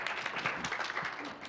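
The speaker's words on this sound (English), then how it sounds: "Oh, you can clap for yourself too." Quiet, steady clapping from a small gathering at a youth advisory council presentation on drugs, a soft continuous patter of many hands heard from a distance, without a clear start or finish.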